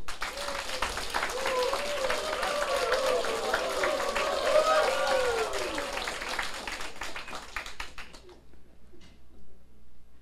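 Applause at the closing ceremony of the Taiwan Civil Government's fourth senior administrative counsellor class, steady clapping through most of the stretch before fading, with voices talking beneath it.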